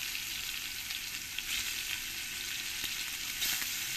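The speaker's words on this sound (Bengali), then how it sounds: "এবার এই পনিরগুলো আমি এর মধ্যে এক এক করে দিয়ে দেব।" Large-cut pieces of paneer fry in hot oil, giving a fairly quiet, even sizzle that holds steady throughout with only slight swells.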